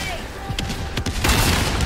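Grenade explosions in the Helldivers 2 video game: a flurry of sharp blasts and booms, ending in a heavier, sustained roar of explosions, loud and close amid chaotic battle noise, with a voice in the mix.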